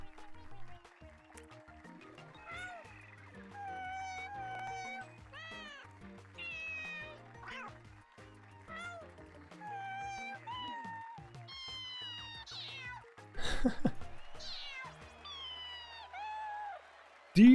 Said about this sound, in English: They kind of sound like humans doing cat noises to me.